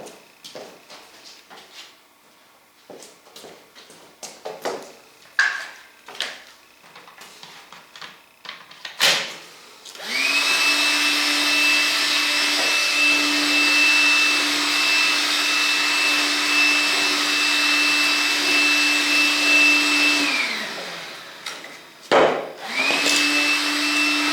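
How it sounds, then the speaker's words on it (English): A vacuum cleaner roars to life after some scattered knocks and clatter, running loudly and steadily with a high whine, then shuts off and briefly restarts. "Let's go grab our vacuum cleaner"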